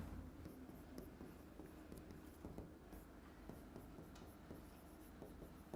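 Faint, continuous scratching of handwriting, a pen or marker moving in short strokes, heard alone in quiet room tone.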